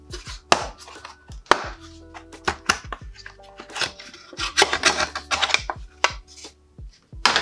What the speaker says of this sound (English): I can now remove the upper part of the front panel and drop a lot of coffee beans doing it.